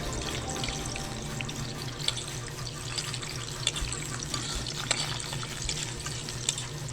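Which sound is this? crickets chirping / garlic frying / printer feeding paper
garlic frying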